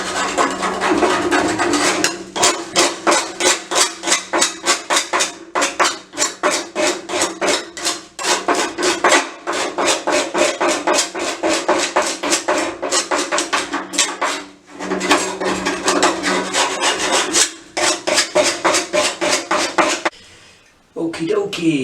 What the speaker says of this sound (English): using your scrapers, scrape off some of the rust